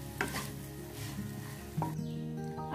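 Cooked jeera rice being stirred in a pan, with soft scraping and a faint sizzle under a low hum, and a couple of light clinks of the spoon against the pan.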